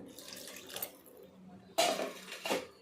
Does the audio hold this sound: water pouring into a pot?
yes